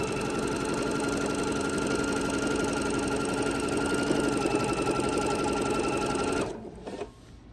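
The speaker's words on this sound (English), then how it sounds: "we're gonna stitch all the way down to our first corner" A sewing machine runs steadily, stitching binding onto a quilt, a loud, even mechanical whir and rapid needle chatter for about six seconds before it stops abruptly, leaving near silence.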